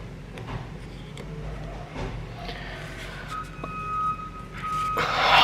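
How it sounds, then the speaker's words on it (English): Reversing beeps from digging machinery working outside, a steady high-pitched tone emerging partway through over a busy, rumbling background of vehicle noise, heard from indoors at moderate distance. "As you can hear from the beeping, the noise still goes on outside."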